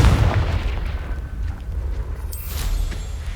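Confringo blasting spell explosion in the Hogwarts Legacy game on PS5, a deep booming blast with rumbling low end that decays over a few seconds, with a bright burst near the end.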